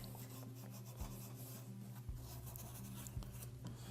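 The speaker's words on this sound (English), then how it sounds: "So now we want to take the abrasive pad and we want to clean that up here." Abrasive pad scrubbing a Dillon RL550C reloading press, a steady close rasping rub with a repeating back-and-forth texture and a few sharper scraping strokes, with no talking.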